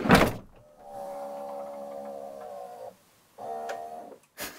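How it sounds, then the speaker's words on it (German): Electric closing-assist motor pulling the sliding door of a 2022 Globecar Globescout camper van shut: a steady motor whine in two runs between sharp door clunks, close and clear with no talking. "da sitzt zusätzlich nochmal ein Elektromotor, der das letzte Stück eben die Tür ins Schloss zieht"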